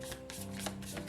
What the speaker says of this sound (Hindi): शफल कर लेते हैं कार्ड्स को